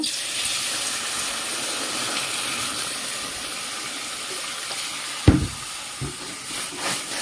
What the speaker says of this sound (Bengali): সামান্য পরিমাণে জল দিলাম